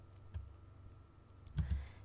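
Soft computer mouse clicks, two faint taps a little over a second apart, set against a quiet background hum.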